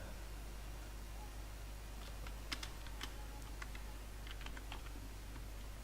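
Keyboard typing while entering a user name during Windows 10 setup: a few scattered soft key clicks in short bursts, faint over a steady background hiss.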